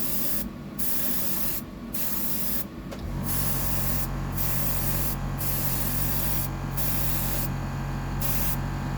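Spray paint hisses in steady bursts from an aerosol can as a coat goes onto a custom fishing lure, with short pauses between passes, loud and close, no talking.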